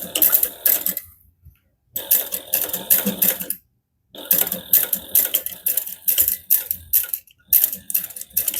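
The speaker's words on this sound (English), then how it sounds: "we just top stitch along the edge of the zipper tab using a 1/8 inch seam allowance" A sewing machine top-stitches along the zipper tab of a fabric hobo bag, running in loud, close bursts of rapid rattling stitches separated by short pauses.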